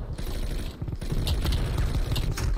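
Bursts of rapid gunfire from the Call of Duty: Cold War video game crackle in quick succession, with dense automatic fire and scattered sharp reports layered over a constant game background.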